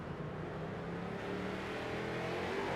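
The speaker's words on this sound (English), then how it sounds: "all of a sudden, you can hear the rear tires light up and into the outside retaining wall" Race car at Charlotte with its rear tires lighting up as it heads into the outside retaining wall: a steady loud engine roar with a rising whining tone and grinding tire noise throughout.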